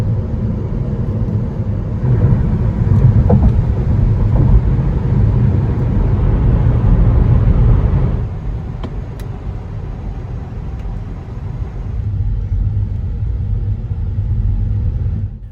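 A car cruising along Highway 1 near Half Moon Bay, a steady loud in-cabin road rumble and engine drone that eases slightly partway through, no talking.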